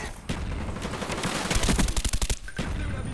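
Rapid AK-47 fire from Black Ops rattles out in a dense, loud burst, with a sustained run of closely spaced shots building to a peak before cutting off near the end.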